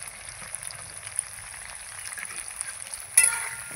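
Chopped onions fry in a pan with potatoes, a faint steady sizzling hiss that surges into a louder crackle near the end, with no voices.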